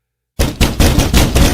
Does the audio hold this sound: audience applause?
no